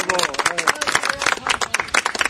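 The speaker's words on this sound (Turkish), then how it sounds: "Alkış. Bravo." A crowd at an outdoor picnic gathering claps in quick, uneven bursts, close and fairly loud, with voices calling out over the clapping.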